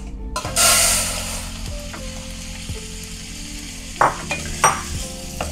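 Lentils frying in a pan on a home stove in Bangkok, a steady close sizzle with a loud burst early on, then a few clinks of utensil against pot over continuous crackling; no talking.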